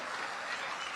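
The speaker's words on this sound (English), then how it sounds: "let us applaud these young men and women for the work that they are" Audience applause at a public address during a visit to the Giyani Bulk Water Project in South Africa, a dense, steady clapping that fills the whole second at even loudness.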